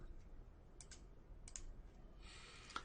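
A few soft, scattered computer keyboard clicks, including the F12 key, tap out in a quiet room, irregular and faint against a low background hush.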